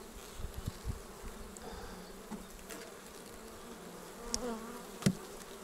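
Honeybees from a weak colony buzz steadily at an apiary hive in early April, a close, continuous drone with a few louder passes of individual bees.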